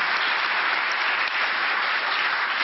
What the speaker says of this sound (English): You give her a round of applause.